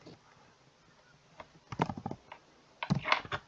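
Computer keyboard typing Dart code, heard as a few scattered soft key taps early on, then two dense bursts of rapid clicking, close and moderately quiet.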